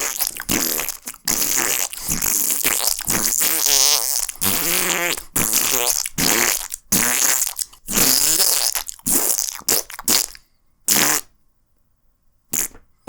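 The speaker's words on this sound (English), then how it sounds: "Fart noises, part 2." A long series of loud, close fart noises comes in bursts of varied length, some buzzing and tonal, separated by short gaps and a silent pause near the end.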